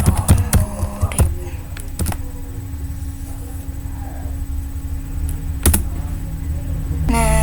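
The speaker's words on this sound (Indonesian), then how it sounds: "habis itu kita ketik lagi" A computer keyboard clatters under quick typing while entering commands for an Apache Hive installation, with sharp key taps in bursts near the start, a long quieter hum, then a few more strokes at the end.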